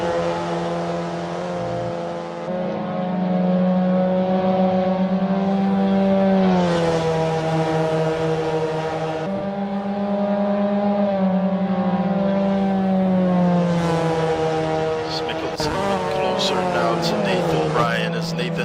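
A race car slides around the Suzuka East circuit, its engine whining in long sustained tones that climb and drop with each gear, loud and close, with commentary over it.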